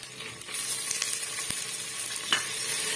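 Potatoes sauté in hot oil for a dried fish curry, giving a steady bright sizzle with a few sharp crackles and the scrape of stirring, close up and without speech.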